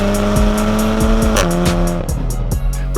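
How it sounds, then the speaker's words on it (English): A tuned VW Golf MQB (Pikey R600, Vudu stage 1) is driven off a dyno, its engine droning loudly and steadily with shifting revs and clicking pops throughout, close and unbroken, no voices. "Callum's in the background taking this car off the dyno."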